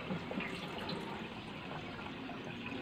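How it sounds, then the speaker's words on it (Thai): Rinse water is poured out of a bowl of washed sago pearls, a soft, steady splashing trickle that is quiet and continuous, with no one talking. "ซาวแล้วเราก็เทน้ำทิ้งนะคะเหมือนเราล้างข้าวล้างอะไรนี่แหละ"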